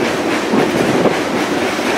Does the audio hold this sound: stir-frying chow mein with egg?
no